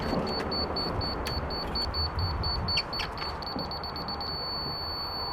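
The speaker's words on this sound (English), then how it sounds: "When I hear a solid beep, I know I'm right in line with the laser" A laser level receiver beeps high in quick regular pulses, then settles into one steady tone when in line with the laser, over a constant outdoor rumble, checking a retaining wall.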